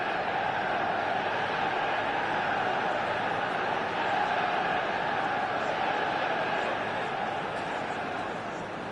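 Stadium crowd in a football video game, a dense, steady roar of many voices with chanting tones, loud and continuous throughout without letting up.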